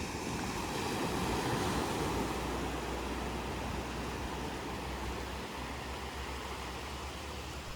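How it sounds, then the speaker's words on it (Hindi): Sea waves wash onto the shore in a steady, roaring hiss that holds at an even level, with no one speaking. "आप सुन रहे होंगे कि समंदर कितना शोर मचा रहा है।"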